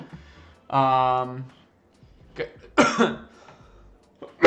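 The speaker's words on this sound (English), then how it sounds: "Sorry, I'm gonna try to mute without coughing too much." A person coughs a few times in short harsh bursts, close to the microphone, with brief voiced sounds between the coughs.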